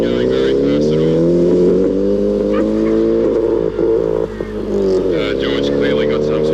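A rally car at the 1990 Alpine Rally, its engine struggling at speed, drones in steady harmonic layers with little rise or fall, loud and close, with a commentator talking over it.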